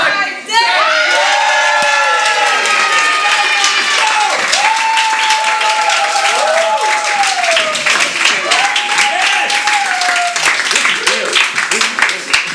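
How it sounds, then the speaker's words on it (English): A comedy show crowd in Valencia bursts into applause and cheering, loud clapping mixed with whoops and shouted voices, including high excited children's cries, sustained and energetic for over ten seconds. "Give a round of applause for the Vitti."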